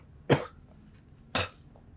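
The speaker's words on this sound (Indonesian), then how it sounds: "Ini gue batuk kayaknya udah mau sembuh sih" A person coughs twice, about a second apart, each a short sharp burst close to the microphone, with no talk.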